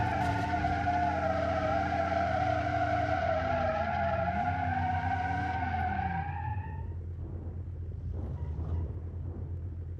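Car in a zombie car challenge in the Automation video game, its engine droning steadily with a rising tyre skid squeal that fades after several seconds, leaving a low rumble.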